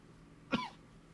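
A single cough from one person, short and close, rising sharply once and fading quickly against a quiet background.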